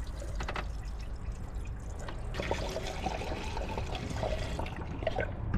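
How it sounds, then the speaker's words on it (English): Washer fluid pours into the washer fluid reservoir of a Grand Prix car under restoration, a steady liquid trickle with light splashing against a constant background hum. "we're gonna fill up the washer fluid container right here."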